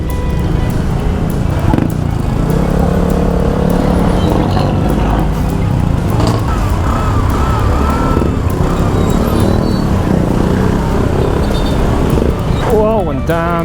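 Dense, heavy road traffic around a Honda PCX 160 motorcycle at night, with cars packed close, engines droning steadily and a siren wailing in the mix, while a rider talks throughout.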